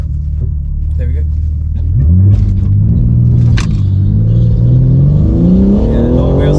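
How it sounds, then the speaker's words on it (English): BMW G80 M3 Competition launching at a drag strip with wheel spin, a loud close engine rumble rising sharply after a short idle and holding a hard revving pull, while someone speaks over it. "Yeah, a lot of wheel spin there."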